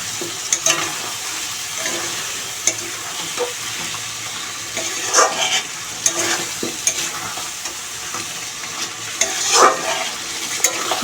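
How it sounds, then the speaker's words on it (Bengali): Chicken pieces coated in chili powder, dried red chili and turmeric masala fry over a low flame in a pan, giving a steady close sizzle broken by louder scraping stirs and clanks of the spoon at intervals. "হালকা জালে ভাজি করব, না হলে মশলা পুড়ে যাওয়ার সম্ভাবনা থাকে"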